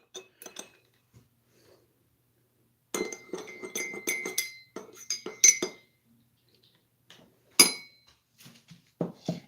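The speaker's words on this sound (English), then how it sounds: "as I'm stirring in the different colors, I'm just wiping the spoon off" Spoon stirring egg dye in a glass, with scattered light clinks and scraping taps against the glass, coming in brief irregular clusters between quiet gaps.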